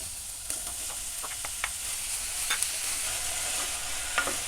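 Chopped potatoes and softened onions fry in a pan, a steady close sizzle with a few soft stirring scrapes scattered through it and no voices.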